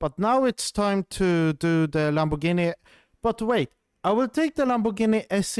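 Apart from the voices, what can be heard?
No everyday noises stand out.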